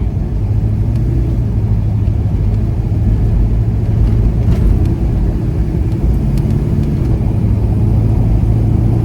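A rusty 1970 Pontiac GTO with no brakes cruises along, its V8 giving a steady low rumbling drone from inside the car with mild throttle variations and no talk.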